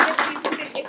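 Audience applause at an event in Melbourne, a short burst of clapping hands in a room, brief and moderately loud, with a voice talking under it.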